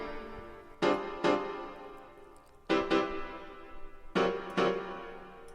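Piano chords for a remake in FL Studio, struck in pairs with gaps between, each chord ringing and fading, clean and alone.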